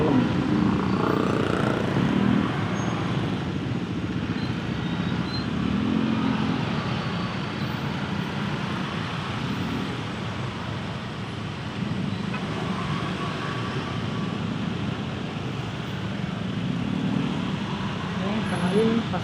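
Busy Jakarta city traffic packed with motorcycles near a main wholesale market: a steady, loud roar of engines and road noise, with a voice talking over it.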